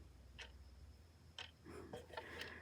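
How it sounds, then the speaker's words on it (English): A custom MOPAR wall clock mechanism ticks faintly and steadily, about once per second, close by in an otherwise very quiet room, with no speech. "You can probably hear it ticking if we're quiet."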